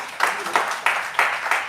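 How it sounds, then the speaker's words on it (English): An audience at a live wellness session claps in a steady rhythm, with about five evenly spaced bursts of hand claps sounding close and moderately loud. "Let's clap for them."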